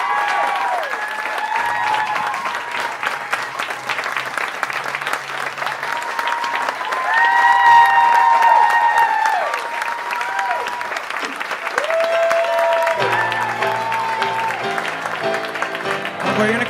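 Theatre audience applauding a pianist at a cabaret show, sustained clapping throughout while sustained musical tones and some voices ring over it.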